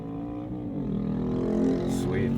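Tuned 2010 BMW E92 M3 accelerating hard with engine note rising steadily over a couple of seconds, a brief tyre-spin squeal mid-pull, heard from inside the cabin.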